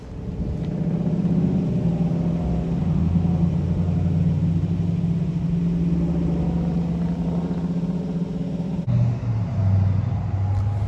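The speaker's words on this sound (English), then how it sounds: "So you can see the cars are leaving now for the last day of Goodguy car show" Cars leaving a Goodguys car show in Texas make a steady close engine rumble as vehicles roll past, with the low drone shifting in pitch near the end as another car passes.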